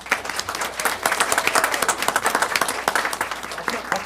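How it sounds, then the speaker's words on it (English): A room at a city council business meeting applauds the police department's employee of the month, a moderate group clapping with distinct individual claps audible throughout. "please give him a round of applause"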